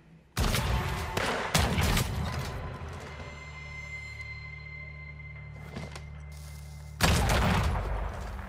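Rifle shots in the video game Weird West, with sharp, loud reports near the start and a heavy blast near the end, separated by a sustained droning tone, and no talking.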